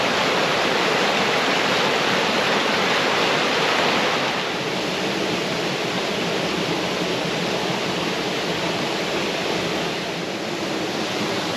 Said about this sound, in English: the river's in full stream through the forest here